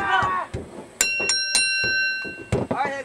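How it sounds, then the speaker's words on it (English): A wrestling ring bell clangs repeatedly at an independent wrestling show, several sharp metallic rings with long sustained tones, loud and close, as a referee and crowd voices talk over and between the strikes. "That was a tap. Ring the bell."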